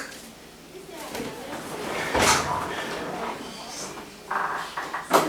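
An apartment door is opened indoors, with a sharp latch clack followed by a short scraping swing, while faint room noise and brief background sounds continue around it.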